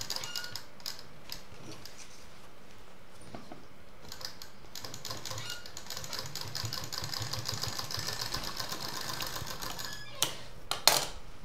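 A sewing machine stitches piping onto a sling bag made from old jeans, giving quiet bursts of rapid mechanical rattling and clicking that stop and start, growing busier and louder toward the end.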